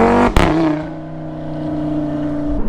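A 2016 Audi RS3 with a 2.5-liter turbocharged five-cylinder engine blips sharply, then settles into a loud, close, steady drone that swells slightly toward the end.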